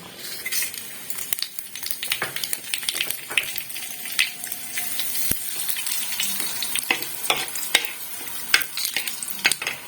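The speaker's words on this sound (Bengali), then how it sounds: "কড়াইয়ে সরষের তেল গরম করে নিয়েছি। এবার আমি ফোড়নটা দিয়ে দেব।" Spices temper in hot mustard oil in a wok, giving a continuous sizzle and fry with scattered clicks and scrapes of a stirring spoon against the metal, close up and fairly loud.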